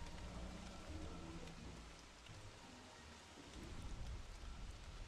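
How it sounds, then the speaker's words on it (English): Heavy rain pours steadily in the video game Don't Starve, a dense, even hiss of falling water that holds from start to finish with no one talking. "Oh, it's raining really heavily now."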